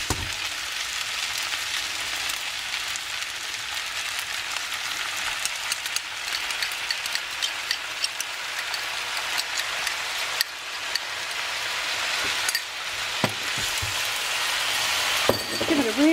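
Noodles and sauce for chicken pad see ew fry in a pan with a continuous, rain-like sizzle that stays close and fairly loud throughout, with occasional clicks and a brief scrape near the end.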